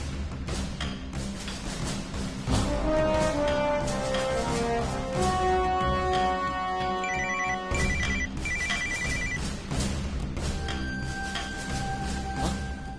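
A mobile phone ringtone plays a bright melodic tune, loud and continuous, with repeating electronic notes over a low background hum.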